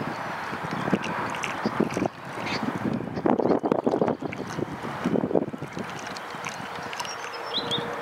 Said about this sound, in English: Wind is from the northeast with a lot of east in it.